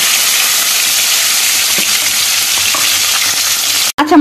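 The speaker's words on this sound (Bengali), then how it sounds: "কড়াইতে ভোলা মাছগুলো নিয়ে কড়া করে লাল লাল করে ভেজে নেব" Bhola fish fry hard in hot mustard oil in a wok, giving a loud, continuous sizzle close up, with a brief break just before the end.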